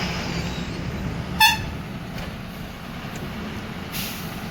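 A truck pulls away from a loading area on a soil and cement hauling run, its engine a steady low rumble throughout, with one short, sharp horn toot or air-brake burst partway through.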